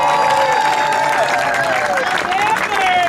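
Loud crowd applause and cheering at a mayoral candidacy announcement in East Orange greet a city council candidate, dense clapping with whoops and shouted voices throughout.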